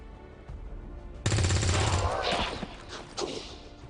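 A soldier fires in XCOM 2: after quiet ambience, a loud burst of gunfire erupts, followed by rattling reports and a second sharp shot near the end.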